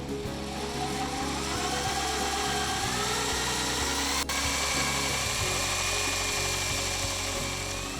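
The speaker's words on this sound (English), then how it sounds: "Once you're done drilling the hole," A steady high-pitched drill whine runs continuously with a low engine-like hum beneath while drilling a hole in a motorcycle to install a holeshot device, no voices, loud and close.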